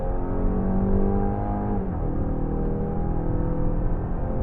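Mazda Skyactiv car engine, close and steady, revving at high rpm in a sustained run with a brief dip in pitch midway before climbing again, no talk over it.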